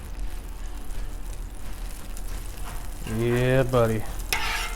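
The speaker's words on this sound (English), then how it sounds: "I'm putting the broccoli on first. I always put some butter in with my broccoli." Broccoli sizzling in butter and oil on a Blackstone griddle, a steady crackling fry all through, with someone speaking briefly near the end.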